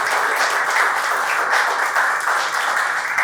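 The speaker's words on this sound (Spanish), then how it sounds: "Yo pido un aplauso para Nuri." Audience applause at a book launch for a Dominican cultural dictionary in Italian: steady, dense clapping from a crowd, continuous and fairly loud throughout.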